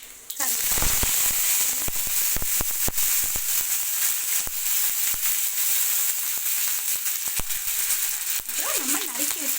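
Cumin, pepper and fenugreek splutter in hot sesame oil for a kofta kuzhambu, a loud, continuous hiss with scattered sharp crackles and pops close up; a voice speaks briefly near the end.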